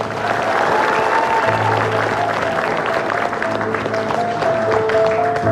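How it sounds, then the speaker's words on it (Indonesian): Steady, loud applause from an audience fills the whole stretch, a dense wash of clapping with a faint crowd murmur. "Sekali lagi tolong berikan tepuk tangan paling meriah"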